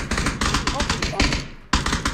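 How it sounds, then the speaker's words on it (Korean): Gunfire in the video game PUBG Battlegrounds, a rapid series of loud close shots in bursts with a brief pause near the end before more shots, with voice chat present. "여기 왜 총소리 나는 거야?"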